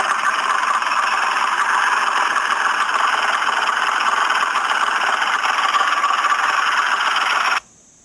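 A buzzy two-stroke engine of a Yamaha Blaster drones at a steady pitch, close and loud, then cuts off abruptly near the end.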